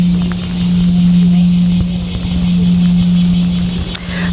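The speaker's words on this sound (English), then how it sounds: "that is the sound of the bell." The Peace Bell in Hiroshima rings with a deep, steady low hum that sustains throughout, heard outdoors under a constant background of buzzing insects and ambient noise.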